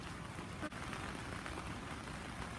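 Steady rain pours down in Israel in a dense, continuous hiss, with one brief dip partway through and no voices.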